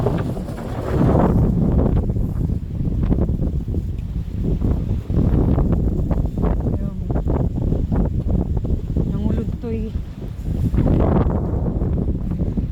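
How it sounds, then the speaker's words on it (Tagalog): Strong, gusting, cold wind roars and buffets the microphone continuously by a lake, with rustling and a faint whoosh of moving air throughout. "Lamig, malakas yung hangin"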